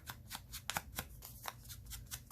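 A paper label torn by hand from a French document for a journal project, giving a series of short crisp ripping and crinkling bursts at an uneven pace, close and quiet, with no talking.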